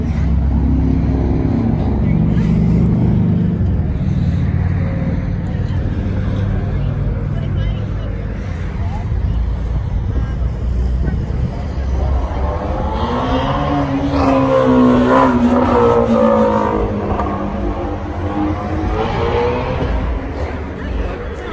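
Mopar muscle cars rumble and rev at a crowded evening car meet in Bellmore, Long Island, a loud continuous engine roar that swells midway with rising revs, heard amid crowd chatter and nearby talking.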